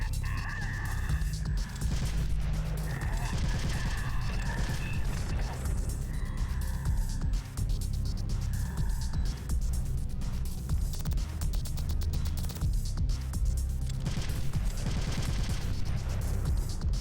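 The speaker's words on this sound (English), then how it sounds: "Still gotta actually shoot the guy though." Gunfire in Metal Gear Solid: The Twin Snakes: a continuous, loud game soundscape of repeated shots and bursts over low rumble, with no clear talking.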